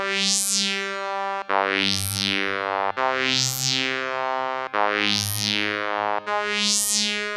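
A Waldorf Blofeld synthesizer plays a bright, buzzy vowel-like tone with reverb, five sustained notes of about a second and a half each, sweeping through shifting formants, with no talk.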